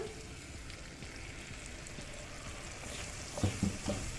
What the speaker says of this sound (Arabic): يا دوبك التومه قايمه تتشوح، احط فيها الحاجات دي كلها